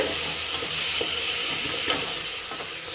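Fenugreek leaf rice (menthya bath) stirred in a hot pan, a steady loud sizzling hiss with soft scraping strokes of a spoon through the rice, no voices.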